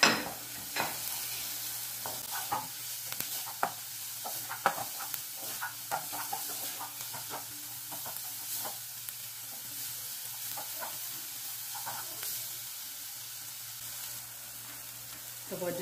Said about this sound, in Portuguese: Vou deixar ela refogar até ficar transparente